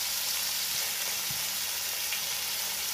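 A John Dory fillet fries in hot oil in a pan, a steady close sizzle with a faint bubbling hiss and a soft stirring bump, no voices.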